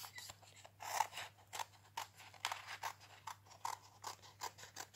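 Scissors snip through paper while cutting out a hand-drawn snowman for a Christmas craft, giving a run of short, crisp cuts and rasps spaced irregularly over steady low hum, close and fairly quiet.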